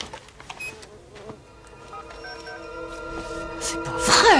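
A swarm of bees buzzes inside a closed-up house in an action film scene, a thin droning hum over tonal music that swells louder toward the end.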